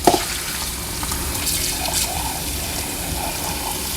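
Water runs steadily from a tap over a Sunmaki electric milk frother being rinsed in a sink, a continuous close splashing with small shifts as the jug moves under the stream.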